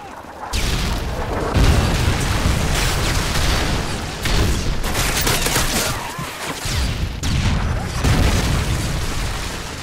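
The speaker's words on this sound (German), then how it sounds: "Delta Luftschlag ist unterwegs." Air strike explosions in Modern Warfare 3 boom one after another, loud and continuous, a dense rolling barrage of blasts and crackling debris for the whole stretch.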